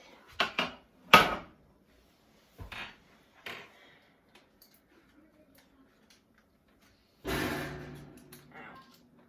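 A hot baking pan is set down on a kitchen counter, giving a few sharp metallic clunks and knocks in quick succession, then a longer scraping clatter near the end with quiet pauses between.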